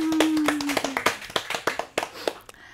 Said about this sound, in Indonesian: Boleh tepuk tangan dulu untuk Bu Murni.